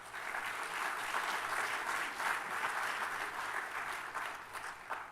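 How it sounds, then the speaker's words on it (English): Sustained audience applause fills an awards ceremony hall, steady and dense from start to finish with no voices over it. "so please give them a round of applause"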